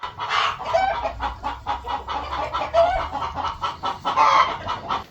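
Several chickens cluck and murmur steadily inside a coop, a dense overlapping chorus of close, moderately loud calls with brief squawks rising now and then.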